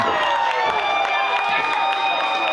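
Wrestling arena crowd cheering and chanting loudly in unison during a headlock hold, a dense roar of many voices with rhythmic shouted counts close and continuous.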